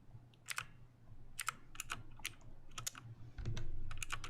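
Someone types on a computer keyboard during a live stream, close and quiet, in short irregular bursts of clicks and key taps separated by brief pauses. A low hum sits underneath.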